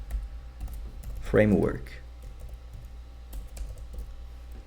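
Faint keyboard typing, a few soft clicks and keystrokes, runs under someone speaking Portuguese in a quiet room.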